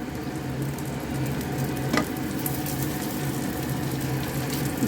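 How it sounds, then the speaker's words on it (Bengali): Pieces of pumpkin and ridge gourd fry in a pan with a steady, close sizzle that carries on unbroken, with a faint stirring scrape partway through. "ভাজাগুলো খুব সুন্দর ফ্রাই হচ্ছে।"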